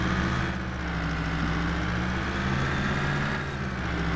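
Vehicle engine in Farming Simulator 22, a steady loud drone held at an even pitch throughout as the vehicle drives along.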